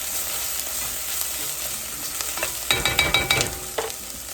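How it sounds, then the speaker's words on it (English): Garlic and rosemary sautéing with onions and celery in a pan for a polenta, kale and Parmesan soup: a steady, close sizzle, with a burst of stirring scrapes and clatter through the middle. "We're going to add our garlic and rosemary."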